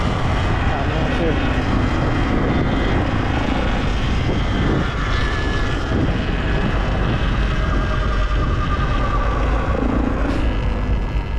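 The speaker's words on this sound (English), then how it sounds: "They got helicopters everywhere." Helicopters circling over a Los Angeles protest at night, a steady droning rotor and engine rumble running throughout, fairly loud and continuous, with crowd noise and scattered voices beneath it.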